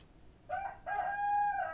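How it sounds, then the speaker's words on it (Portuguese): A rooster crows near a farm shed where hens roam, a single drawn-out call in two rising parts, fairly close and clear over low background noise. "Isso, Galo, canta à vontade, pode cantar."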